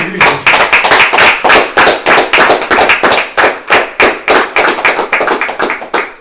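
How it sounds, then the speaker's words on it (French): Steady, rhythmic clapping fills the room during a talk, with sharp, closely spaced hand claps repeating evenly throughout, loud and close with no voices over it. "On va applaudir déjà dans l'intervention."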